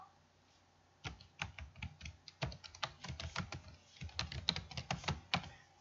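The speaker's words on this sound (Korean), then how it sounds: "깜빡이는 커서가 있을 때 앞문장만 백스페이스로 지워볼 거고요" Keys tapped on a computer keyboard to backspace and delete text while editing a poster design, a quiet pause followed by several clustered bursts of close, crisp clicks.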